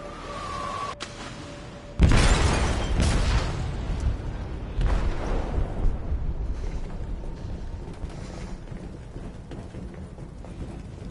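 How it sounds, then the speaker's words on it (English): An explosion in a ship's hold in the video game Detroit: Become Human, a sudden heavy boom followed by a long rumbling roar and debris that slowly fades, loud and enveloping. "They detonated an explosive in the hold."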